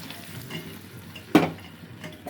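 Soft frying sizzle of a vegetable curry with light stirring, then a sudden sharp splash-hiss as water hits the hot pan before settling back to a gentle bubble.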